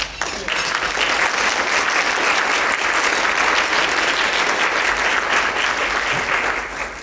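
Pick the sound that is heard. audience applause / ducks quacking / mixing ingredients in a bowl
audience applause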